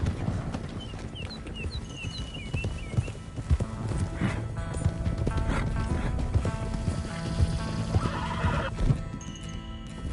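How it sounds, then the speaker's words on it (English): Video game horses: hooves clip-clop rapidly as horses gallop, with repeated neighs and whinnies over a busy, continuous background. "Come on, horses."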